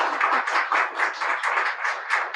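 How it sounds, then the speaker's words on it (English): A small audience at a talk event gives a round of applause, a close, even patter of hands clapping in gentle pulsing waves that lasts a couple of seconds with no voices over it. "A round of applause,"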